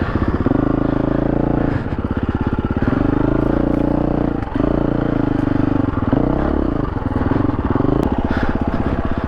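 A KTM 350 EXC dual-sport motorcycle rides over rocks, its loud single-cylinder engine pulsing steadily up close while the throttle is fed in, with clatter and scraping from the rough ground.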